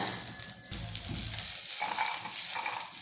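Spices dry-roast in a pan, a soft close rustling sizzle with faint scraping from stirring, steady and fairly quiet for a few seconds without speech.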